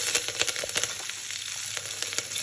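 Cumin, asafoetida, ginger and green chilli fry softly in hot oil, a quiet continuous sizzle with small pops and faint stirring clatter.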